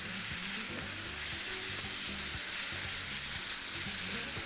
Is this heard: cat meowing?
no